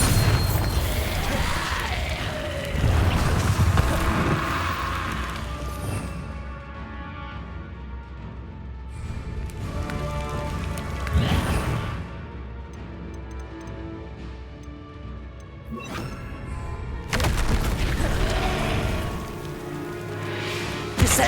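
Bombarda explosion spells go off in Hogwarts Legacy with deep, booming bursts, three big blasts spread over about twenty seconds with rumbling decays and game music or effects ringing between them.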